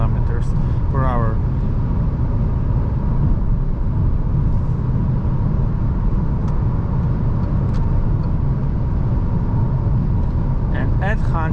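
A Citroen C3 Shine 2021 with the PureTech 110 HP engine cruises at 130 km/h, a steady low cabin drone of engine, tyre and wind noise, with someone talking over it.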